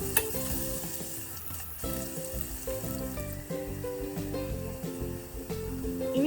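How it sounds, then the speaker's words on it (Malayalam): Sliced onion and finely chopped garlic sautéing in a pan for a dhaba-style aloo matar curry, a dense continuous sizzle with busy stirring scrapes and clatter, close and steady. "എന്നിട്ട് ഇത് നല്ലോണം ഇളക്കി ഒന്ന് വഴറ്റിയെടുക്കാം"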